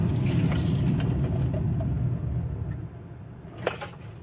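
A 2011 Subaru Outback with a TR690 CVT drives at about 40 mph during a torque converter stall test, giving a steady low road and engine rumble from inside the cabin with a brief knock near the end.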